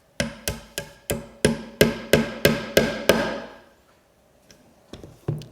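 A hammer lightly taps a brad point drill bit to mark holes in a guitar neck, giving about nine evenly spaced, sharp, ringing taps, then a pause and a few fainter taps.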